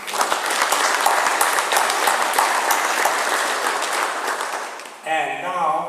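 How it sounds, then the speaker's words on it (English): Applause from the audience at a university convocation and investiture ceremony, a steady dense wash of clapping that runs loud for about five seconds before giving way to a voice and tonal sound. "And a round of applause and recognition."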